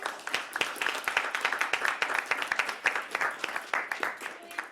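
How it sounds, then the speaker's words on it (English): Audience at an academic conference session applauding the presenters, with scattered individual claps forming moderate, fairly sparse clapping that stays steady for several seconds. "I'm gonna ask you to put another round of applause to our speakers."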